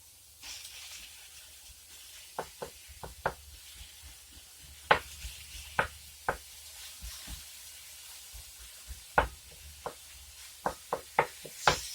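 Food sizzling in a cast iron skillet for homemade burger helper, a soft steady hiss broken by sharp close pops and crackles spread through the clip, with no talk.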